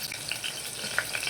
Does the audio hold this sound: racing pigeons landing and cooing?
no